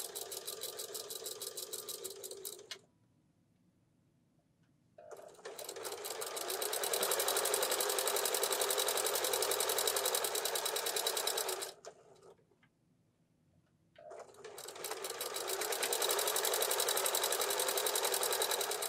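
A sewing machine stitches a pillow in long, loud, steady runs of fast whirring, stopping twice for a few seconds of near silence before starting again.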